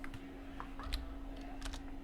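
Light, scattered keystrokes on a computer keyboard, quiet and close, a handful of soft clicks spread over a couple of seconds above a faint background hum.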